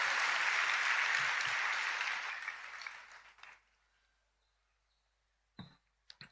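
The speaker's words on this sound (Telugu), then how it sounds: "గట్టిగా చప్పట్లు కొట్టి దేవునికి స్తోత్రం చెప్తూ మహింపరుద్దామా" A church congregation claps loudly in praise, a dense burst that fades out over about three seconds, followed by near silence broken by a few faint clicks and small knocks.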